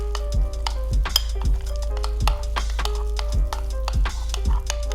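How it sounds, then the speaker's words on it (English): Oats in a bowl stirred briskly, with a repeating scrape-and-tap of the spoon against the bowl roughly every half second, close up and steady with no talking. "You just do a quick stir."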